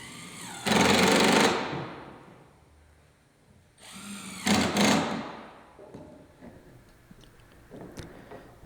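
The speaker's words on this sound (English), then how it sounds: "Pre-drill the holes for the screws." Power drill boring pilot holes for stainless steel screws in gazebo floorboards, two loud close bursts of whirring separated by a quiet gap, each fading off, with faint knocks afterward.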